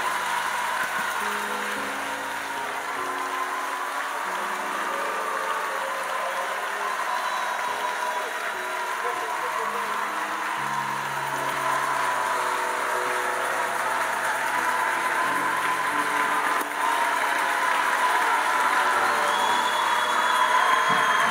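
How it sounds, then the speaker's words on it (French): A church congregation cheers and applauds to welcome a singer. The sustained crowd roar and clapping holds steady throughout, with tonal music or singing running underneath. "Nous allons le recevoir avec des acclamations."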